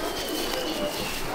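A male and female pair of Ferozpuri pigeons in a loft coo softly under a dense hum of background noise, low and continuous over a short stretch.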